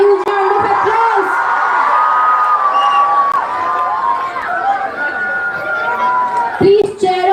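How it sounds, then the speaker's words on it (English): A loud crowd cheers, whoops and shouts for dancers at an Independence Day and Krishna festival event, a dense sustained roar with high yells rising over it and a brief dip before surging again near the end. "So please give them a huge round of applause."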